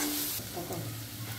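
Garlic paste sautéed in a pan for dried bombil pickle, a brief steady hiss of frying with faint stirring, close and even.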